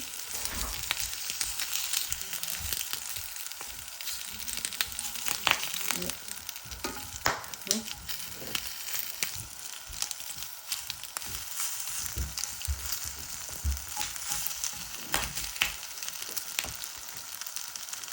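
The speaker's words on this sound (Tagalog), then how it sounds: "Dito ko iihawin sa cast iron na pan." Pork for sisig sizzles on a cast iron pan, a steady close crackle with scattered sharp spits and pops running continuously for the whole stretch, with no talking.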